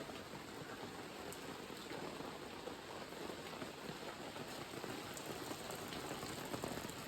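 Steady downpour outside, drops drumming on surfaces in a continuous fizzing wash, fairly quiet and unchanging throughout.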